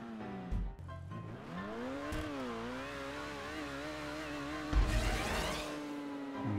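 A car accelerating in GTA 5 revs with a rising and wavering engine whine, with a couple of sharp thumps and a burst of tire noise near the end, fairly faint and steady.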